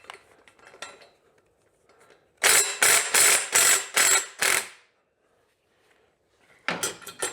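A ratchet wrench loosens an engine guard mount bolt on a Suzuki DL1000 motorcycle, giving a close run of five sharp clicking bursts, a quiet pause, then another burst.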